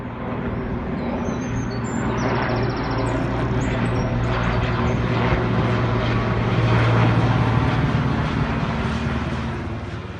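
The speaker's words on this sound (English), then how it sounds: "The helicopters came over really low just as I was going in" Helicopters flying low over a garden, a loud steady rotor and engine roar that swells and fades slightly across the whole stretch, with no talking.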